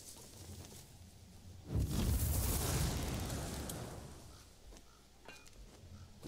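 Fire Drake spell cast in King Arthur: Knight's Tale: a sudden loud, roaring fiery burst that swells and fades over a few seconds, followed by softer crackles and a few sharp hits.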